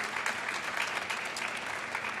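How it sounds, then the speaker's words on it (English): A crowd at the National Cherry Blossom Festival kick-off gives Maggie O'Neill a round of applause, a dense, even wash of many hands clapping steadily throughout at moderate distance. "Please give Maggie a round of applause as well."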